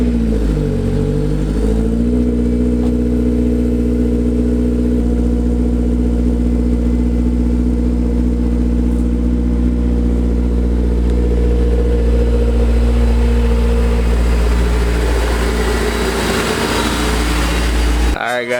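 A Honda S2000 idles with steady low harmonics, then revs and pulls away, rumbling loudly up close before the tone shifts and fades slightly.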